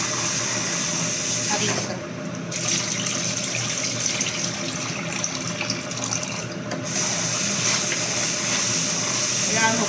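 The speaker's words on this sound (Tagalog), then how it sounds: "Kailangan hugasan siya maigi." Harissa grain being washed under a running kitchen tap: a loud, continuous gush of water filling a bowl, with a brief muffled dip in the flow, as a voice speaks over it.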